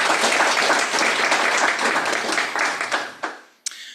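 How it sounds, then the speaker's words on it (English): A short burst of applause from a meeting audience, steady clapping that thins out and stops after a few seconds. "So maybe a little applause."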